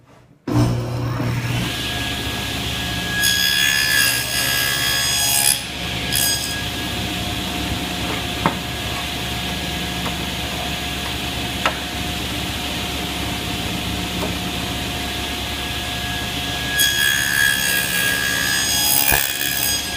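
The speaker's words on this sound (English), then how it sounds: "we're going to go ahead and make our second cheek cut" A table saw rips through wood to cut the second cheek of a tenon, its steady loud whine and blade hum running the whole time, with two surges of higher-pitched cutting noise as the blade bites into the stock.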